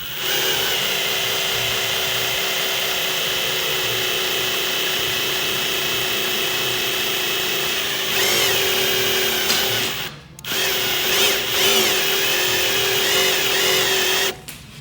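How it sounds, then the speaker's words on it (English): A drill spins the oil pump to prime a freshly rebuilt 1800hp Mustang engine, a steady, loud close whine that holds for about ten seconds, dips briefly, then picks up again as pressure builds. "I just spin it and turn it, and you'll hear the drill get the pressure"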